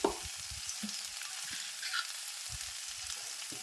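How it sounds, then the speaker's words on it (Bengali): Pumpkin and Malabar spinach frying in a pan, a steady airy sizzle with low scraping bumps and soft knocks as the vegetables are stirred from the bottom, close and moderate in level without talk. "তলা অবধি আবার নাড়াচাড়া করে নিচ্ছি আমি"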